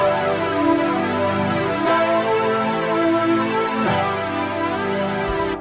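A dark, moody synth chord progression for a sample, two sustained chords repeating and changing roughly every two seconds, loud and steady with no voices.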